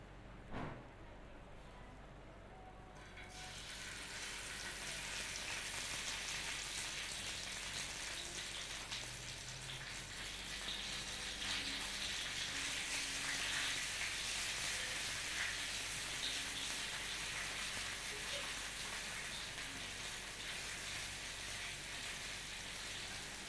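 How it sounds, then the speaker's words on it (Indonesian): A burst of hissing sizzle as ground spice paste hits hot oil, then a continuous loud stir-frying crackle that keeps going steadily, with no talking. "Kemudian tumis bumbu yang sudah dihaluskan"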